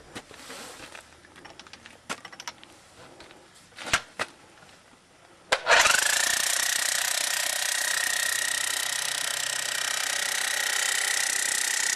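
A hammer drill drives a copper ground rod for a radio broadcast station's grounding system. A few scattered clanks come first, then the drill kicks in with a loud, close, continuous rattling roar that holds steady to the end.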